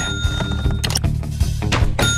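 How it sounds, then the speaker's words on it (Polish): Gunshots strike targets in the Sly Cooper: Thieves in Time shooting competition, a quick series of sharp thunks and pinging hits over a busy, layered game soundtrack. "Celny strzał, chłopcze!"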